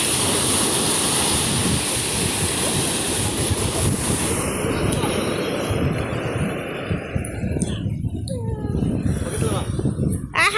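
Sea waves wash in a steady, loud roar at Kanyakumari beach, with wind buffeting the microphone and voices mixed in. The surf thins out into gustier bursts toward the end.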